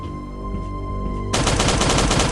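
Rapid automatic gunfire bursts out abruptly after a quiet stretch in the zombie survival video game Last Day on Earth, a loud dense rattle of repeated shots.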